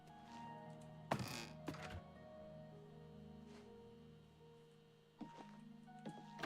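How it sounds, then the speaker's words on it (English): A door opening in the video game The Elder Scrolls IV: Oblivion Remastered: a muffled wooden thunk with a creaking rattle, a softer knock after it, then another thunk near the end over a quiet low drone. "Like the sound of a door opening or something?"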